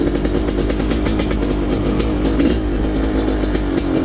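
A BRC 500 enduro motorcycle at a national enduro race sounds loud and close, its engine revving with a raspy, rapid pulse that rises and falls continuously.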